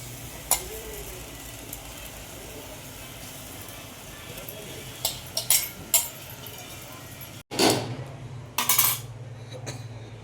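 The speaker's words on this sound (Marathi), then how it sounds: "तांदूळ टाकतोय आता, सर्व ते आपलं टाकून झाले।" Rice is added to a cooking pot for a Gudi Padwa festival thali and stirred, giving sporadic metal spoon clinks and scrapes against the pot over a low background hum.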